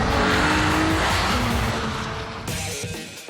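A Nissan 350Z drifting in Gran Turismo 4, its engine droning steadily while the tires squeal through the slide, loud and close, easing off toward the end.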